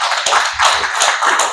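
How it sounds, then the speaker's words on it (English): A small community forum audience claps for election candidates, a short burst of close, uneven hand claps lasting about a second and a half. "Give our candidates a round of applause."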